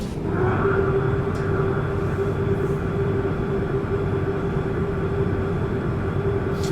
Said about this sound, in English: Let's go check the flaps, see what that sounds like.